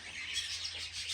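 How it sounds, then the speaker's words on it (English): Several kinds of birds call continuously outdoors near Warracknabeal in rural Victoria, Australia, as a steady, fairly faint chorus of high chirps and tweets with no talk. "And then look at these birds. Different types of"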